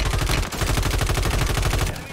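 Rapid, dense automatic gunfire from enemy teams in a ranked shooter match, a sustained loud barrage of overlapping bursts with a brief gap near the middle, fading slightly at the end.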